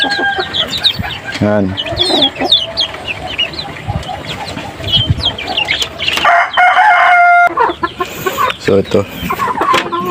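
Gilmore gamefowl chickens in a backyard cluck and crow nearby, loud and busy, while someone talks over them.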